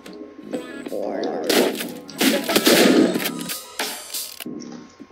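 Shotgun blasts from the video game Deadbolt come in several loud, dense bursts of a few seconds each, with mechanical clanks and short gaps between them; no talking.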